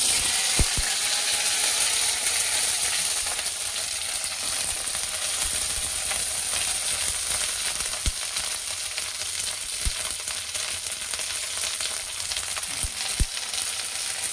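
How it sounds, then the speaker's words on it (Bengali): Okra frying in a home kitchen pan, with a steady, dense sizzle that holds up close and even for the whole stretch, broken now and then by sharp little pops and crackles, with no voices. "চলো ঢ্যাঁড়সগুলো ভেজে নিই।"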